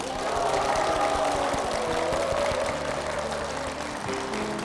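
A congregation at Cheorwon Methodist Church claps in a steady, dense wash of applause that holds for several seconds, with a low tonal hum running beneath it.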